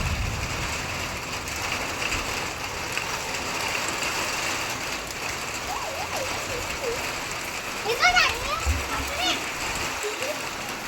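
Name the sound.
heavy rain falling on metal roof sheets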